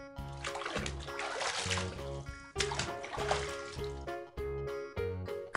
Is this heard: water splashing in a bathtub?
yes